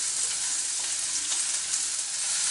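Vegetables hit a hot pan with meat for a rice noodle salad and set off a loud, steady, close sizzle and crackle of frying that runs without a break.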